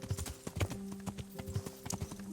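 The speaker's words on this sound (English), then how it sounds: "I still see a bunch of horses here" Horses' hooves clip-clop in the medieval video game Kingdom Come Deliverance, a brisk irregular run of close, crisp hoof strikes over a faint steady background hum.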